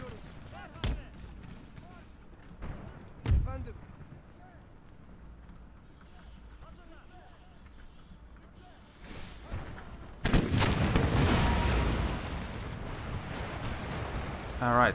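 Cannon artillery fire in the video game Empire Total War, with sharp booming blasts at the start followed by a heavy sustained barrage later on, heard under someone talking.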